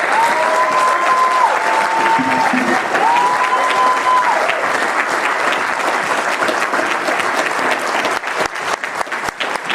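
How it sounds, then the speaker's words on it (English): Sustained round of applause from a cinema audience at a film Q&A in a Nottingham cinema, dense steady clapping filling the room for nearly ten seconds before thinning out toward the end. "audience, please join the final round of applause"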